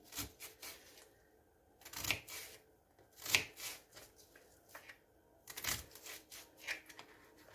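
A knife knocks against a cutting board in irregular chops through onions, some louder than others, close by with no talking.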